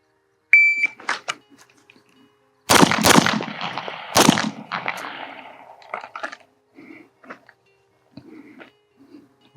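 A Tisas 1911 DS9 Duty pistol fires at a target: a beep, then several sharp, loud shots in two close bursts, followed by quieter scattered clicks and knocks.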